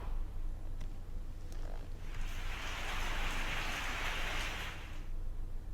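Steady rain falls in a broad, even hiss that swells louder through the middle and then eases off. No voices are heard.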